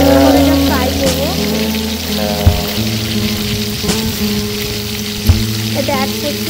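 Okra fries in a pan with a loud, steady sizzle and crackle, close up, with a few sharp clinks of a utensil against the pan and brief voice sounds underneath.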